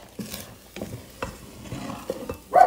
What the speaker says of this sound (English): So you constantly need to stir it.